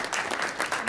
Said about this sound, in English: another round of applause for Aude, please